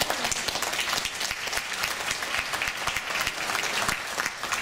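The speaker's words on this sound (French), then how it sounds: "je vous demande de les applaudir très très fort" Audience at a charity telethon show applauding loudly, sustained dense clapping with sharp individual claps audible throughout.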